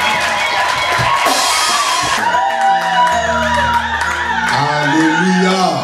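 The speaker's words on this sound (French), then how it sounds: "Acclamons très fort le roi des rois." A church congregation acclaiming loudly during a pastor's consecration service, a dense wall of cheering, whoops and shouting voices that fills the room, with scattered claps and a sustained, ringing crowd roar throughout.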